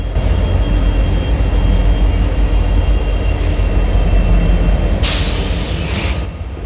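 A train rolls past on a railroad line in Oregon's Willamette Valley, a loud, continuous rumble of wheels on rails with a bright hissing surge near the end, close by.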